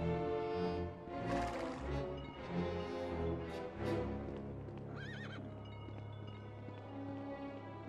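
Horse neighing and whinnying in the LEGO Indiana Jones video game, with clip-clop hooves over a busy game music bed, loud and continuous throughout.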